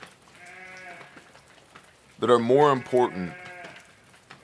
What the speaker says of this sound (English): including those sheep over there, if you can hear them in the background.